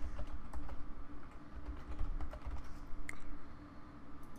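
Keys on a computer keyboard are tapped in a quick, irregular run of soft clicks while a password is entered, close and quiet with no talking.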